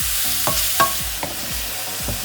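Mushrooms frying in a pan for rice pilaf give a steady, close sizzle, broken every half second or so by the scrape of stirring.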